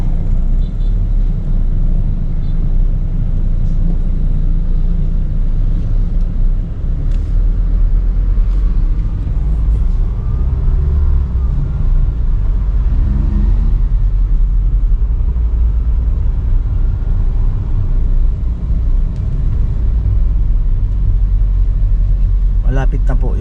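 A car drives through light traffic toward a school, its cabin filled with continuous low road rumble and engine drone, while voices talk intermittently over the noise.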